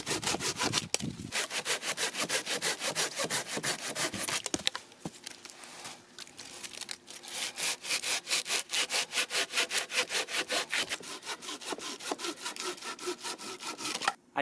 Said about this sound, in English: I'm going to process this pine with this awesome saw